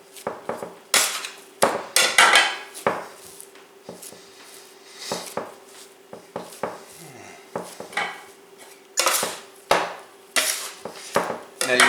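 Bread dough for French sandwich bread being kneaded by hand on a work surface: irregular thumps, slaps and knocks come close and fairly loud in uneven bursts, with brief pauses between pushes and folds.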